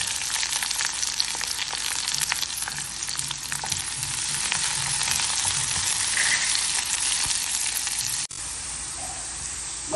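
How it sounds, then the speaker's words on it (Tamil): Onions and curry leaves sauté in a hot pan, giving a steady, close, dense sizzle that runs unbroken for the full stretch, with a few faint stirring scrapes and no voices. "வெங்காயம் இந்த அளவுக்கு வதங்கணும்"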